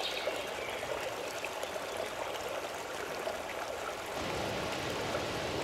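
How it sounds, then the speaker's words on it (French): The Broad River flows gently across a long, very flat stretch of its basin, giving a soft, even, continuous trickling wash of water that stays steady throughout and is heard alone. "Cette rivière coule tout doucement sur une longue section du bassin dont le paysage est"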